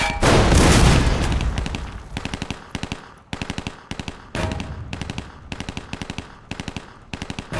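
Machine gun fire from the World War II strategy video game Desert Rats vs Afrika Korps: a loud opening roar of gunfire fades, followed by repeated short, sharp rattling bursts at close range, with no talking.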